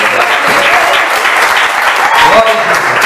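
A church congregation claps during a Brazilian anniversary service, loud dense palms close by with voices talking over them throughout.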